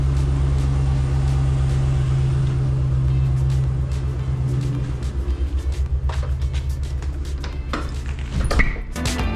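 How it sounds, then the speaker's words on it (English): A twin turbo truck engine idling after a cold start, a loud, steady low rumble that eases slightly and takes on a pulsing throb, with a few clicks and clatters near the end. "Let's go do a cold start to the truck."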